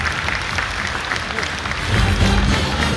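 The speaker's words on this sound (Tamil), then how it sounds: "நல்ல ஒரு கைத்தட்டல் கொடுத்துரும் ப்ளீஸ்" An audience at a Varudapirappu 2025 celebration applauds after a lively dance performance, with dense clapping that swells toward the end and faint crowd murmur beneath.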